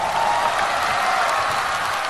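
Studio audience at a Chinese stage comedy competition claps steadily for about two seconds, a continuous even wash of applause with no talk over it.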